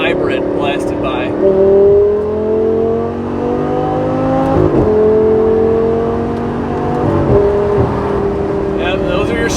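Salvaged Lamborghini engine revving hard through several upshifts, each pull rising in pitch and then dropping sharply at the shift, loud and close from inside the car, with brief quieter moments between pulls.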